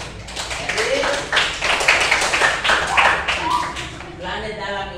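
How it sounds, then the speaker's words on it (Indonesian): A classroom group applauds for a student group, several pairs of hands clapping close and fast in an uneven patter that fades near the end, with a voice faintly underneath. "Bagus, tepuk tangan untuk kelompok 3."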